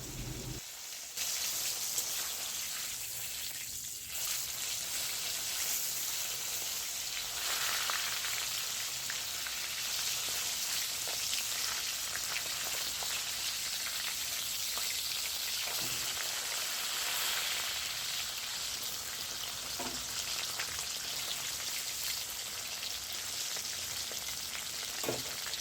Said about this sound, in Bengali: এবার মাছগুলোকে দিয়ে ভালো করে ভেজে নেওয়া হবে।